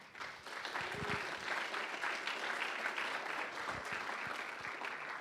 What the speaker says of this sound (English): So how about a quick round of applause for our sponsors?